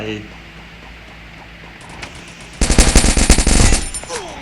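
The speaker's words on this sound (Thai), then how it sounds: "ก็ต้องมาเจอปืนยูซี่ของฉัน กระบอกนี้ ที่ยิงนายให้ตายไป" An UZI fires in the mobile game Free Fire, a fast loud burst of rapid shots after a quieter stretch of game ambience.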